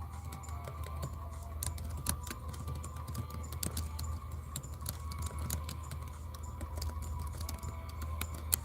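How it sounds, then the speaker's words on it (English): Someone types on a keyboard: faint, quick, irregular key clicks over a low steady background hum, with no speech. "I'm typing up my question right here."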